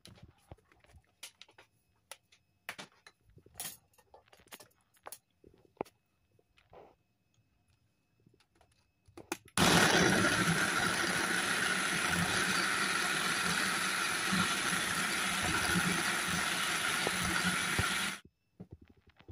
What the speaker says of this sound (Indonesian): sekarang saya akan blender dulu ayamnya ya teman-teman